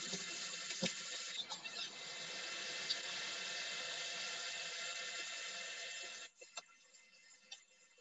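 A running kitchen tap gushes steadily with a broad hiss, then is shut off so the flow stops abruptly, leaving a quiet room with a few small clicks and drips.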